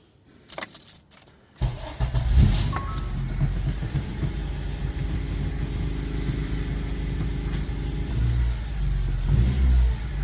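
A 2009 Honda Civic Si fitted with upgraded motor mounts starts up after a few clicks and jingles, then its engine revs and hums steadily at close range while driving, swelling slightly near the end.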